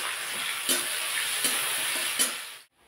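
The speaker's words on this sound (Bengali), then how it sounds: "পেঁয়াজটা ভালো করে ভেজে নেব।" Chopped onions with a pinch of salt fry in a pan for ghugni, a continuous close sizzle marked by three sharp spatula scrapes, then cutting off abruptly into silence.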